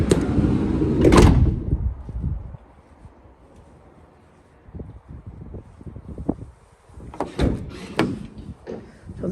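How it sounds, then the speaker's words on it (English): Rear doors on a 2025 Volkswagen Crafter 2.0 TDi van with 270-degree hinges are opened, first a loud latch clunk and swing, then quieter handling, and later a few more sharp clunks and rattles. "Just go around the back and open the rear doors."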